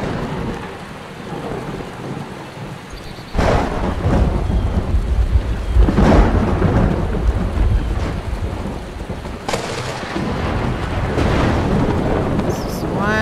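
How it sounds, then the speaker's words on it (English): Steady heavy rain pours during a thunderstorm in the Skyrim video game, with several loud rolling thunder cracks over the continuous downpour and no talking. "This is one hell of a storm."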